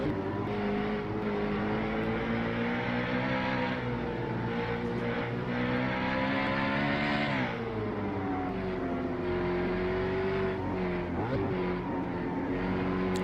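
A V8 Supercar engine in a racing video game at the Charlotte Roval roars steadily, its pitch rising and falling as the throttle is feathered, with a brief dip and recovery midway. No voices are heard over it.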